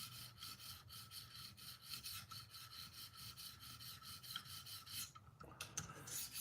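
A sharpening stone drawn along a knife blade near the tip in short light strokes, giving a quiet, close, rhythmic rasping scrape repeated many times, heard alone without talk.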